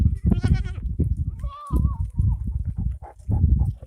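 Goats bleat on a ranch, several wavering calls rising near the start and middle, mixed with someone talking steadily over a busy farmyard background.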